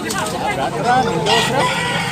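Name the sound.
rooster crowing, gamecock for sale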